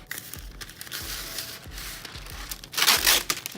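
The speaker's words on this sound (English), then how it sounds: "Next, I'm gonna take the wax paper" Wax paper is handled for a homemade ring light project, giving crinkly rustles and scattered taps that end in a louder burst of crumpling near the end, close and with no talk.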